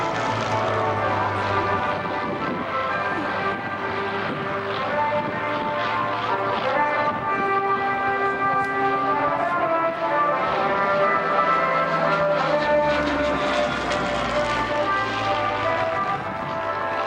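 A Hawker Hurricane propeller fighter flying at the Southport Air Show 2014, its engine a loud, steady drone with slowly shifting pitch throughout, no voices heard.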